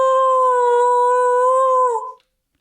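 A long sustained vocal sample from a free Elektron Digitakt sample pack, a steady harmonic tone that holds for about two seconds, bends slightly down and back up near the end, then cuts off into silence.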